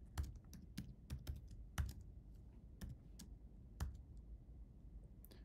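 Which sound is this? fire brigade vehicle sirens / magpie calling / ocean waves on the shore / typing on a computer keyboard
typing on a computer keyboard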